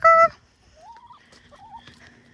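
Hens in a chicken coop give a loud honking squawk, followed by softer warbling clucks and chirps close by.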